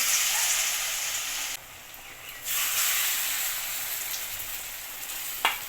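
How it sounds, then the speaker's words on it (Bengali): Bitter gourd leaf fritters sizzle in hot oil, a loud steady hiss that drops away briefly and then comes back, with a small clink near the end. "এখন এটা আমি গরম তেলে ছেড়ে দেব"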